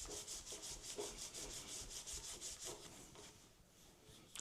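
Finish is rubbed by hand into a wooden pen blank made from scrap wood, a rapid, even series of soft, dry rubbing strokes heard close up and quiet.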